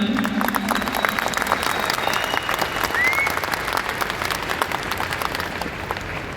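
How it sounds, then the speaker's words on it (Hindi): Sustained applause from a seminar audience, steady dense clapping throughout at an even loudness, with no speech over it. "एक बार जोरदार खुद के लिए तालियां बजा दीजिए।"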